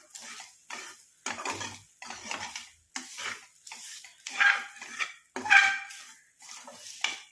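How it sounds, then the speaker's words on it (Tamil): A spoon stirs a homemade natural hair dye mixture in a pan, making repeated rhythmic scraping strokes with brief metallic clinks. It is close and clear, with short pauses between strokes. "நம்ம இந்த மாதிரி கரண்டி வச்சாதான் இதை வந்து நல்லா கிளறி விட முடியும்"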